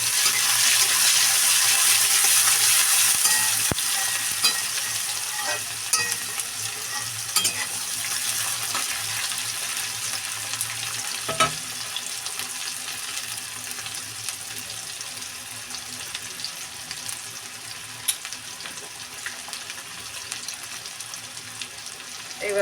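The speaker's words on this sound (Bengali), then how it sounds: "দিয়ে দিলাম পেঁয়াজ আর রসুন" Onion and garlic hit hot oil with fried cumin seeds, a loud, steady sizzle that settles into a softer crackle with occasional stirring clicks, close by and without talking.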